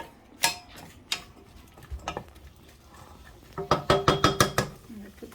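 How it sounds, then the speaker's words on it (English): Chilies, ginger and garlic are stirred in a pan on an electric hob: scattered scrapes, then a quick burst of rhythmic metallic clicks and taps close by. "chilies, ginger and garlic to the pan, like so, like that, and then just give it a really good mix, just like that"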